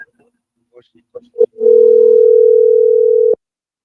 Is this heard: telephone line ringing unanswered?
yes